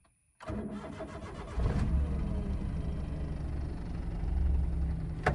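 A Maruti Alto car engine cranks and catches after a short silence, then settles into a steady, loud idle that continues close by with no one speaking.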